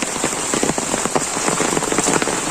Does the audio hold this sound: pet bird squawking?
no